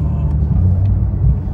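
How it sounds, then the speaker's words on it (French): A 370,000-euro sports car drives on a track, its engine a loud, steady, deep rumble that swells slightly throughout, close by with no voices. "La voiture, elle marche comme c'est un tonnerre."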